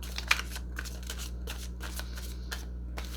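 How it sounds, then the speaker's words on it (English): Tarot cards shuffled close up in a quick series of crisp riffles and soft slaps over a low steady hum, with no voice. "One more shuffle"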